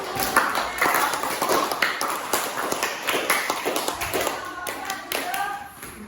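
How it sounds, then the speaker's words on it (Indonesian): A classroom full of people claps, a dense scatter of hand claps continuing steadily for several seconds, with some voices mixed in. "Tepuk tangan buat teman-teman."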